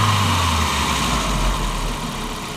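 A 1999 Volkswagen Passat 1.8T idles roughly with a faulty mass airflow sensor, a steady low engine drone with slight unevenness, close up and alone.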